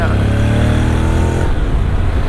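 A Honda X-ADV 750 scooter, a 2024 model, pulls hard in sport mode, its engine note loud and close with rising harmonics before dropping to a steady rumble.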